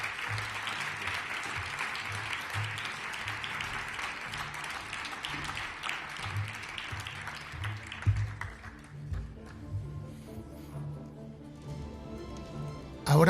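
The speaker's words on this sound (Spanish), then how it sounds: "recibid con un fuerte aplauso a César Millán y El hombre del traje negro" An audience gives sustained applause at a short-story reading in Soria honoring Stephen King. The dense clapping runs for about nine seconds, then fades into quiet room tone with a few small bumps.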